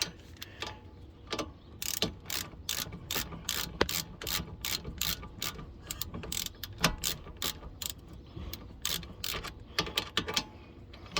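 A ratchet spanner tightening a bolt on the rear brake carrier of a Toyota ST180 during a big brake conversion gives a close, steady run of crisp clicks in uneven bursts, with no talking.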